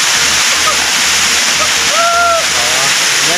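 A waterfall on a river in Dhanbad, Jharkhand roars loudly and steadily, a dense broadband rush of falling and splashing water heard up close throughout.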